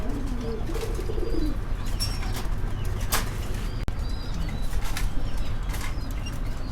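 Black Meghpai fancy pigeons coo softly in a cage on a pigeon farm. Faint chirps and brief wing flaps come through steady background noise, and there is no talk.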